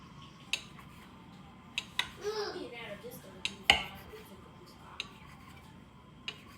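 A knife chops through pretzel dough into bites, giving sparse, sharp taps on a board in an uneven rhythm, with a soft voice murmuring briefly in the background.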